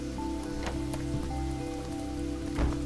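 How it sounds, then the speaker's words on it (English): Rain from the weather effects in the video game Boundless falls in a steady hiss, with faint tonal hums and a few soft crackling taps underneath. "I love the rain in the game"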